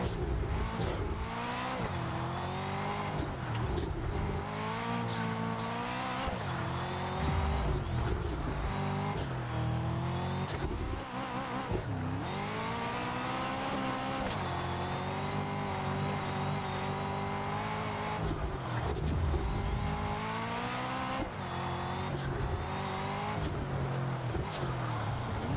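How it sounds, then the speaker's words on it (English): Race car engine in the Test Drive Unlimited Solar Crown racing game, its gearbox sounding rough and near failure, revs and shifts continuously at close range for the whole stretch, loud and steady with rising and falling pitch sweeps and no talk. "It sounds like my gearbox is gonna fall out any second."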